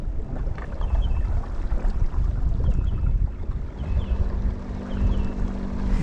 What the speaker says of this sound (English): Let me go forward a little bit so the motor kick in